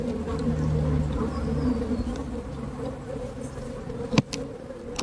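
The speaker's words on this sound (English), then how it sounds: "there's loads of bees in the supers" Honey bees hum in hive supers on beehives after honey extraction, a steady close buzz with a brief louder knock near the end and no talk.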